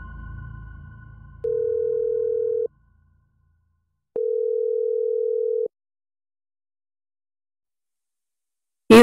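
A telephone call tone sounds as two long, steady beeps separated by a pause, standing alone and clear after a brief low rumble at the start.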